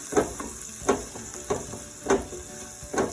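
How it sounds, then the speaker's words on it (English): Garlic, 1-inch ginger and curry leaves sizzle in a hot pan for a spicy coconut shrimp masala, a steady close frying hiss broken by five evenly spaced stirring scrapes. "And I am going to use all of the ginger, 1-inch ginger, and my curry leaves. I'm going to let that also cook in there."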